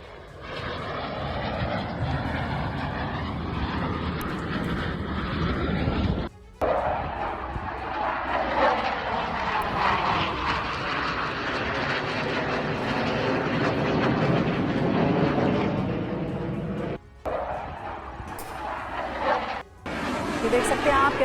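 Two Rafale fighter jets roar overhead during an aerobatics show, a loud sustained jet rumble rising and falling as they pass, with brief cuts in the sound and voices talking over it.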